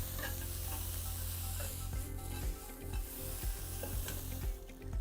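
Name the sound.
onions sautéing in a wok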